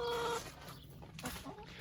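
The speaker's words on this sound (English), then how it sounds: "as you can hear, the chickens would love to get in here" Chickens cluck just outside a fenced onion raised bed, a short clucking call at the start followed by faint outdoor background noise.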